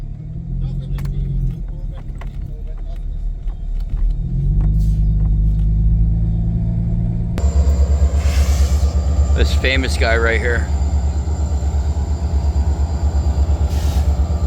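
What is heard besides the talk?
freight train with three locomotives rumbling past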